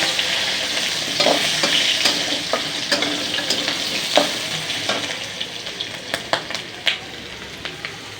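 Potatoes frying in a pan for aloo bhaja, a continuous sizzle with scattered crisp pops and spatula taps, close and moderately loud, no one speaking.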